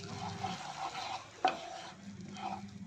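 A melted mixture with crushed red chilli powder being stirred in a pan, a soft steady scraping sizzle with one sharper clink of the spoon partway through, and no voices.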